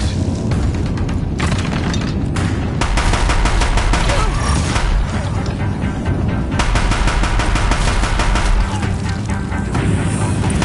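Deathbringer machine guns in Horizon Zero Dawn fire loud, dense bursts of automatic gunfire throughout, layered with heavy booming impacts and rumbling explosions in a continuous barrage.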